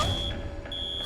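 An alarm ringing with a steady high electronic tone that cuts out briefly midway and resumes, close and fairly loud, with no talking.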